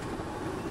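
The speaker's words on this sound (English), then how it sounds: "there's your derailment right there" A tram in the OMSI 2 video game derailing and crashing, a loud, dense metallic rumble and rattle that fills the whole short moment.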